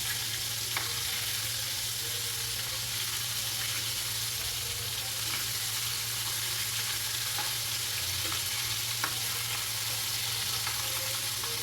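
Chicken pieces deep-frying in oil for homemade KFC-style chicken, a dense, continuous crackling sizzle at steady loudness with occasional soft pops and faint clicks, no voices.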